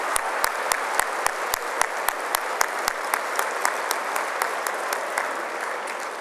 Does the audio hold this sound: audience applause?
yes